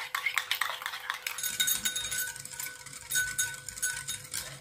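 Mustard sauce whisked by hand in a bowl, oil being worked in like a mayonnaise: brisk, steady metallic scraping and clinking of a whisk against the dish, close and continuous.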